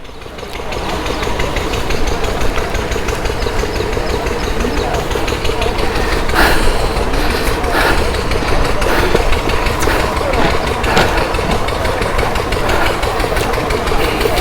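A Bajaj Dominar motorcycle idles nearby with a steady, knocking engine rumble that runs the whole time, while people talk over it at a bikers' group ride gathering.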